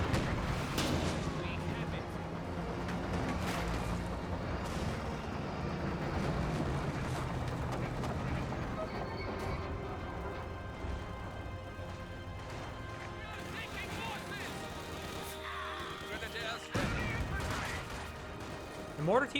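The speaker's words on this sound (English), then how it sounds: "The mortar team hasn't got any good hits there" Mortar rounds and gunfire from a Company of Heroes 2 battle, a dense wash of rumbling blasts and crackling shots under continuous commentary, with a sharper impact near the end.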